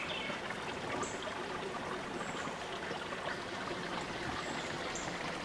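A storm-swollen stream rushes and trickles steadily outdoors after rain, a constant broadband wash of water with faint high bird calls above it, no talking.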